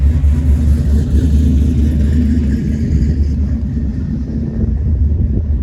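A truck drives past with its engine revving, giving a loud, steady low rumble that fills the whole stretch with no talking.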